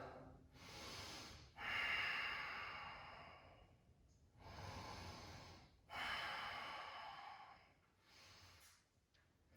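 Slow, deep breathing during a yoga class, audible inhales and long sighing exhales in a steady, unhurried rhythm, close and fairly quiet with no speech.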